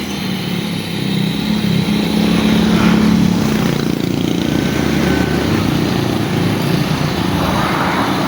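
An MJX 1/12-scale Ford Bronco RC off-road car drives continuously outdoors, its small electric motor giving a steady buzzing whine and rumble that stays near and fairly loud throughout.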